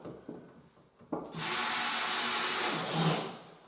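A few faint knocks, then a power drill starts and grinds steadily into wood for a couple of seconds, loud and close.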